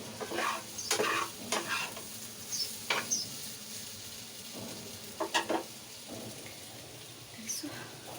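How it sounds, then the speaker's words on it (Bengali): Onions frying in a pan for small fish in a home kitchen, with an intermittent sizzle broken by repeated stirring and scraping strokes, moderately loud and close. "এখন আমি পেঁয়াজ ভেজে নিচ্ছি ছোটো মাছগুলোর জন্য"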